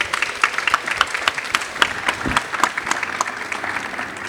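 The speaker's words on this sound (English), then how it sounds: "Could I have a huge round of applause to my panel" A conference audience at a venture capital panel event gives loud, sustained applause for the panelists, a dense roar of many hands with sharper individual claps standing out near the front.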